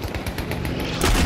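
Rapid, evenly spaced gunshots from Battlefield V rattle off in a steady automatic burst, close and loud. A heavier blast lands near the end.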